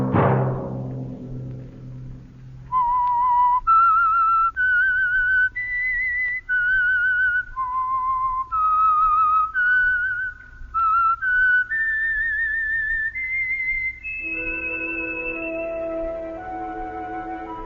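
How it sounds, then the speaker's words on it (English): A lone whistled melody, the theme signal of The Whistler radio show, rises and falls in clear sustained notes over about twelve seconds before music swells in beneath the final tones. "Let that whistle be your signal for the Whistler each Sunday night at the same time."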